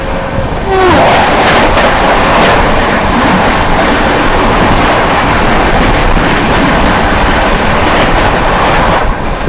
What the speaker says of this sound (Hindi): फॉग को चीरती हुई जाती हुई भाई डिब्रूगढ़ राजधानी।